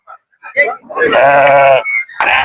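A Hisor sheep at a sheep market in Kokand gives one loud, wavering bleat close by, with brief bits of human talk just before and after it.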